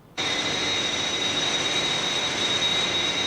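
A steady, loud, unbroken roar of an aircraft in flight cuts in abruptly and holds level, a broad rushing drone with a faint high whine on top, with no voices.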